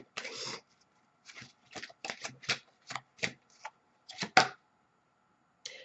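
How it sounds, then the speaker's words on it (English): Tarot cards are shuffled in separate quiet bursts of riffling and tapping, close by, with short silent gaps between each burst and no speech. "I'm getting ready to pull the romance cards."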